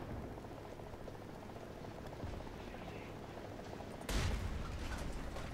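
Single tank cannon shot from an AMX-50 Surbaissé in War Thunder, a sudden loud broadband blast near the end that rises over a steady rumbling engine-and-battle background.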